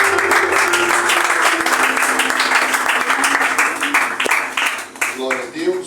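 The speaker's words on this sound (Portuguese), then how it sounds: "Uma salva de palmas para Jesus." Loud congregation applause at an evangelical church service, dense clapping from a gathered crowd that carries on for several seconds, then thins into scattered claps near the end as voices come through.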